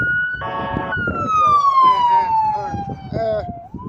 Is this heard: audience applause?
no